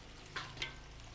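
Lapu-lapu grouper frying in hot oil, a low steady sizzle with two brief louder crackling bursts close by, no talking.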